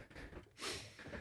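A voice imitates a cocaine sniff: a quick sharp nasal snort through the nose, one short burst following a brief breathy intake, close and fairly quiet.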